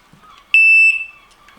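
An MK1 R-Plus Compact remote fishing bite alarm gives one sharp, loud electronic tone lasting about half a second. A fainter tail follows it, with only quiet background before and after.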